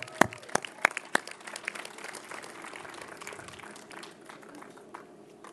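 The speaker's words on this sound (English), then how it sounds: "Okay, big round of applause for Eileen." An audience at a 10th anniversary celebration for Kramer Hall gives a short, scattered round of applause: a few sharp, close claps up front, then thinner, fading clapping.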